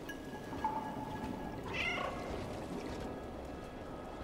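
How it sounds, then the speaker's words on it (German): A cat in the video game Stray gives a short meow, faint and brief over a low steady background hum. "ich liebe trotzdem dieses Miauen"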